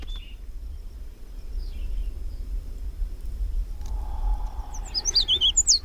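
Galapagos mockingbirds give a burst of quick, high chirps and tweets near the end, close and clear over a steady low outdoor rumble and faint distant bird calls.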